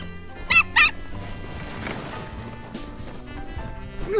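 Small dog barking in a mountain setting, two sharp yaps close together near the start, then quieter ambient noise with faint background voices.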